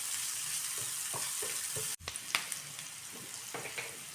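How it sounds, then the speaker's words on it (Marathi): Chopped onion frying in oil with cumin for a spicy onion thecha, a soft steady sizzle punctuated by light scraping and stirring taps, a brief dropout midway, then crackling resumes up close. "थोडासा कांदा भाजून घेऊया."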